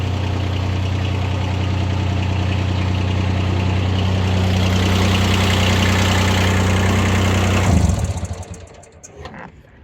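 Kubota ZB1402 compact tractor fitted with a 120 cm rotary tiller, its diesel engine idling with a steady, loud rumble for several seconds before it shuts off and sputters to a stop.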